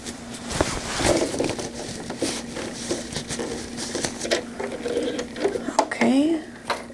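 A sewing machine stitches a zippered wetbag in short runs of rapid mechanical clatter broken by pauses, small handling clicks and fabric rustle, with a steady motor hum underneath, close by.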